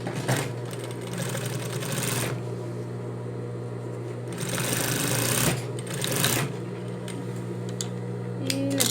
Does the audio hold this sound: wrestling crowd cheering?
no